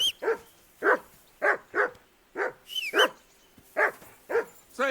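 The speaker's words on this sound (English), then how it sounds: "And there's my dog. Be quiet, you flea-bitten hound." A dog in the video game Kingdom Come: Deliverance 2 barks in a steady series of about ten sharp, close woofs spaced roughly half a second apart, with a short whine mixed in and no talk over it.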